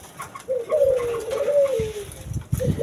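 A pet turtledove cooes in a small cage, a single drawn-out low, soft, throaty call heard up close, with light rustling and handling noise underneath.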